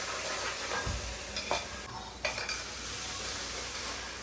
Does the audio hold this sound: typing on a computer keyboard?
no